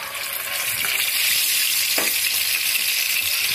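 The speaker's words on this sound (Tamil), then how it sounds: "நம்ம சின்ன ஒரு கடாயில் வந்து எண்ணெய் விட்டாச்சு இப்போ ஃபிஷ் ஆட் பண்ணிக்கலாம்" Fish pieces fry in oil in a small kadai, a loud, steady, close sizzle with a couple of brief knocks or stirring clicks and no talk.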